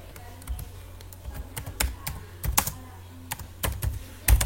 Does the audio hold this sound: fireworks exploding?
no